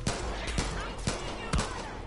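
Heavy .50 calibre gunfire in the video game Far Cry 5, four sharp loud shots spaced about half a second apart over a dense background of game noise.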